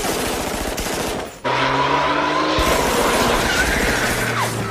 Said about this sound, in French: Qui me tire dessus? Des hommes sur le pont, juste au-dessus.